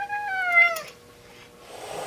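A cat gives one drawn-out, strained meow close by, lasting under a second and then trailing off into near silence.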